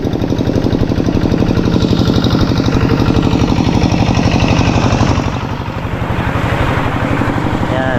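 Motorcycle engines run loud and close with a steady rapid chugging throb, the tone easing slightly partway through, with no voices.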